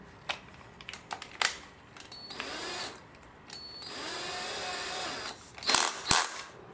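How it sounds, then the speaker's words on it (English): A power drill bores a small pilot hole for fitting a bifold door knob, with two whirring runs of a few seconds each between scattered clicks and handling taps, close and fairly loud. "Next we will need to use a drill and drill bits. First I will make a pilot hole."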